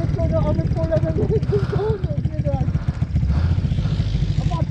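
A loud, rumbling KTM dirt bike engine runs continuously up close, with a throbbing low drone, while voices talk over it.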